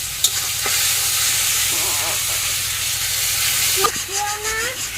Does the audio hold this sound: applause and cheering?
no